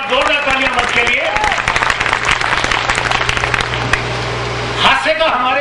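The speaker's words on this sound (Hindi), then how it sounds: "जोरदार तालियां, एक बार जोरदार तालियां मंच के लिए" An audience at a Hindi comic poetry gathering claps in a lively round under an amplified voice, with a steady hum in the hall and the clapping thinning toward the end.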